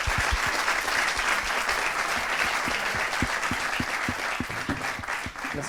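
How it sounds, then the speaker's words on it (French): An audience at a talk by a French navy admiral gives a last round of applause, a steady wash of many clapping hands with a few close, distinct claps standing out. "On peut vous applaudir une dernière fois."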